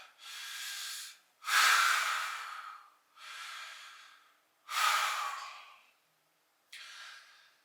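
Deep breaths during a lying supine postural exercise: five slow, close breathy cycles of inhales and exhales with short silent pauses between them.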